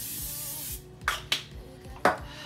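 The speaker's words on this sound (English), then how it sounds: "Spray your pan, get it ready to go." Three quick hissing bursts of cooking spray hit a pan up close, spaced unevenly, with quiet background hum between them.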